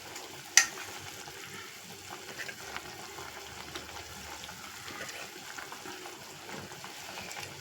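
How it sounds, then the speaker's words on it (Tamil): Quiet, steady sizzling of fish frying in oil, with soft crackles and one sharp pop near the start, no talking. "வாலெல்லாம் பொரிக்க போகிறேன்."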